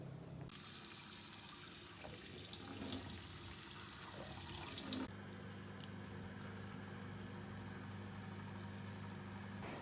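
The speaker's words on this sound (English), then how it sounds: "I'm going to wash the rice and cook it." Rice washed under a running kitchen tap, a steady gush of water pouring into a bowl with sloshing and swirling for the first half, then a plainer, smoother stream, close and quiet with no talk.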